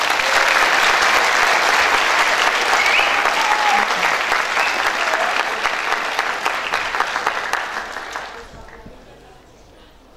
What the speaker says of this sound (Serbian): Molim za jedan aplauz za folklornu sekciju Biblioteka Politika Krupa.